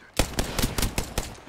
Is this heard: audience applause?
no